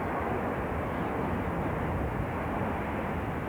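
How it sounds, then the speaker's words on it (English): B-52 bomber engines roar during a night takeoff, a dense, steady, loud jet rumble filling the whole stretch without any break, with no voices. "A flight of B-52s loaded with cruise missiles soared into the night sky"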